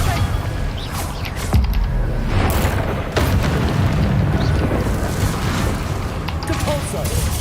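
Spell blasts and booming explosions from the Hogwarts Legacy game crash repeatedly over a constant rumbling wash of combat noise, with sharp bursts near 1.5 and 3 seconds and a voice speaking throughout.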